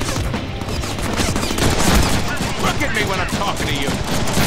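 Rapid gunfire in the Deadpool video game on PC fills the scene with dense, continuous automatic shots and crackling impacts, loud and unbroken throughout.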